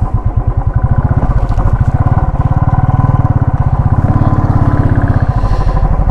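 A motorcycle engine idling close by as the bike is parked on a roadside near a hill, with a loud, even, rapid putter that holds steady throughout.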